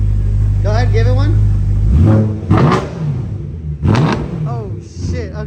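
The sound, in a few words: BMW E92 M3 revving with Bomiz valved exhaust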